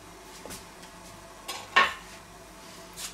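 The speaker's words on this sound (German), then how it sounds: "Mein Schneebesen." A metal whisk clinks against a cooking pot in a kitchen, a few scattered light taps and one sharper clatter, close and fairly quiet over a low background hum.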